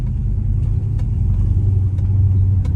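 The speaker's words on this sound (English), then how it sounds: "Like, I can still hear the exhaust" Straight-piped V8 Chrysler 300 with an X-pipe, its exhaust a steady deep low rumble heard from inside the car, droning evenly throughout with no distinct revs.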